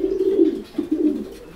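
A racing pigeon, a pale-coloured bird, coos close by in two low, throaty bursts separated by a short pause, with no talking.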